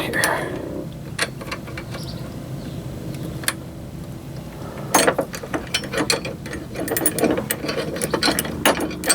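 Wrench tightening a running board mounting bolt, with bursts of rapid ratcheting clicks, close and loud, separated by pauses and occasional knocks of metal.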